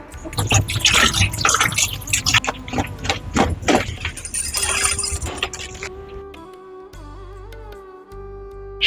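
Cut Brahmi greens are washed by hand in a vessel of water, with repeated close splashing, dripping and sloshing, then a quieter stretch with faint clinks and trickles near the end.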